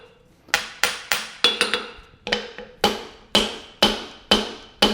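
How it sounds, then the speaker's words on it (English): A hammer drives a wood wedge into the handle of a hand-forged hammer with about a dozen sharp, ringing strikes in a steady rhythm, close and loud with no talking. "Okay, now we're ready to put the wood wedge in."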